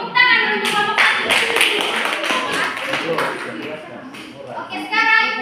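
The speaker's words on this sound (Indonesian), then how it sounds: "tepuk tangan untuk kelompok 1" Students in a classroom clap for group 1, a burst of close hand claps between stretches of a woman's and children's voices talking over it.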